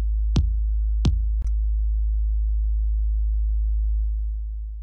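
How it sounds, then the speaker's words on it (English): A kick drum run through a resonance effect in the Mixbus 32C mixing software: two sharp, close thumps and a softer third hit over a steady low sine-like hum that keeps droning and slowly fades at the end. "That's the kick drum resonance technique inside of Mixbus 32C."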